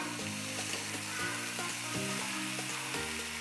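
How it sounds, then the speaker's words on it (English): Peas crackling in hot oil in a pan on a high flame, cooked for squid ink spaghetti with calamari: a steady, close hiss of frying runs throughout, with soft, stepping musical tones underneath. "When oil starts sizzling, pour the peas of the first container in a pan."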